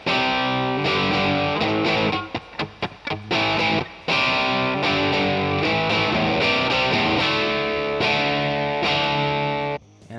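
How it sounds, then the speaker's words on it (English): An electric guitar runs through a Marshall amp emulation inside Reaper, giving a thick distorted tone as chords and quick choppy strums ring out dense and steady for about ten seconds, with no talking. "Here's the sound of a Marshall emulation."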